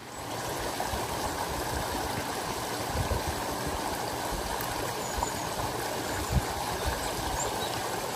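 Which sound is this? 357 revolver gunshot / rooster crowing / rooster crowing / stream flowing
stream flowing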